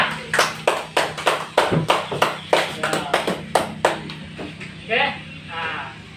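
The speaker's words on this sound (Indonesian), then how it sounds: "Tepuk tangan untuk temannya" A classroom claps for a student's poster, roughly a dozen sharp, evenly spaced claps, like one close pair of hands leading, fading into brief talk at the end.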